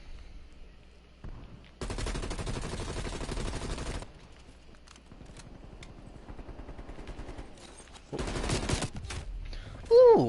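Bursts of automatic gunfire from a Call of Duty: Cold War match, loud and close, with a long sustained volley, a quieter stretch, then another heavy burst, and a brief exclamation from a player near the end.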